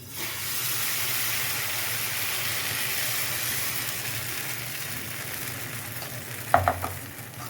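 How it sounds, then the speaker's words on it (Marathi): Rice batter for amboli poured onto a hot pan, giving a steady, close hissing sizzle that holds throughout, with a brief clatter of a utensil near the end. "आणि हे टाकताना ना छान बॅटर ढवळून घ्यायचं."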